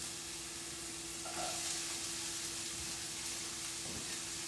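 Olive oil heating in a hot pan on medium heat, a faint steady sizzling hiss with a few soft clicks and a low background hum, no talking.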